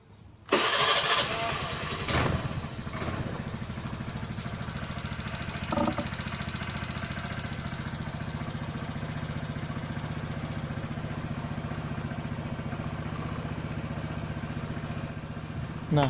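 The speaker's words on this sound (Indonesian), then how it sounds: "Oke, kita coba starter dulu." Carbureted Honda Vario scooter engine cranked by its electric starter and catching right away, then settling into a steady, close, loud idle that runs on evenly with a brief rev bump partway through.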